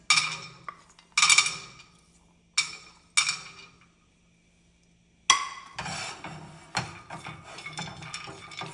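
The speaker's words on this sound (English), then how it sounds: "my pan is hot. I'm gonna dry roast first almonds" Almonds dry roasting in a hot pan, stirred so they clink and scrape against the metal in separate sharp strokes with short pauses. The strokes then turn into a steadier run of rattling taps.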